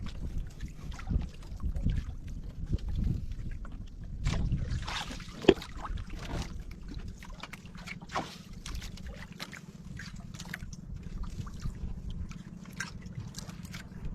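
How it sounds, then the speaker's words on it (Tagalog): Strong wind buffets the microphone in a constant low roar, with occasional gusts and water sounds from a boat in the background. "Grabing hangin, lakas ng hangin."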